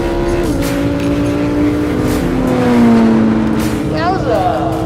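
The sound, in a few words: Lamborghini and Porsche launching in a drag race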